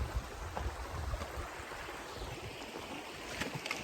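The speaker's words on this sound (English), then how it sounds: "again, beautiful babbling brook." A babbling brook flows beside the Appalachian Trail in the woods, giving a steady, broad rush of running water that fills the whole moment with no voices.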